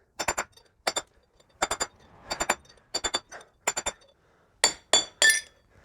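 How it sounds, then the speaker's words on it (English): Wheel bearing races being knocked out of a Toyota Landcruiser hub, a series of sharp metallic hammer strikes, mostly in pairs, with short pauses between them. "you want to alternate between the ledges to make sure you knock the race out evenly"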